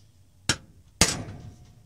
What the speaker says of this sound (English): A little tap. A bigger center punch.